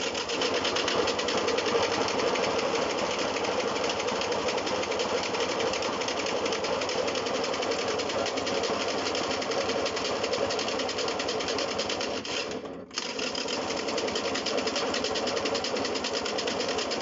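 A small engine on an old project vehicle runs roughly and keeps faltering, with a carburetor suspected of needing cleaning; a loud, steady buzzing chug continues close up, dipping briefly near the end as it nearly stalls, then picks up again.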